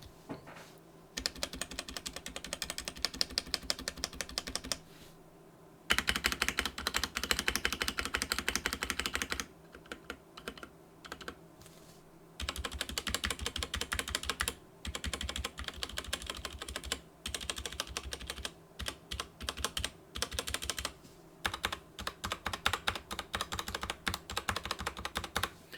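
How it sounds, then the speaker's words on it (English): Typing on a Royal Kludge RK71 keyboard, a fast stream of clacking keystrokes with the deeper thock of stabilized keys, in bursts broken by short pauses, close and clear, no voices. "Let's listen to the stabilizers real quick."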